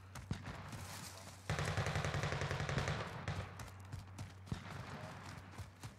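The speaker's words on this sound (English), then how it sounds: "we got gunfire over here" Gunfire in the Call of Duty video game: a rapid burst of automatic fire at mid-clip, preceded and followed by scattered single shots and clicks at moderate loudness.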